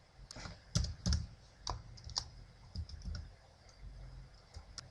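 Someone types on a computer keyboard, entering a short cell formula in a spreadsheet; a handful of soft, irregular key clicks sound nearby and quiet, with no voices.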